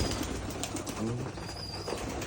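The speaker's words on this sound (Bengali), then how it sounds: "চার পাঁচ বছর এটা একটা পুরাতন কবুতর" An old Rajshahi Giribaz pigeon, a female, coos softly in a low, rolling rhythm, close by, with steady background noise and no talking.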